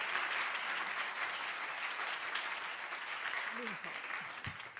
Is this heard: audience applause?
yes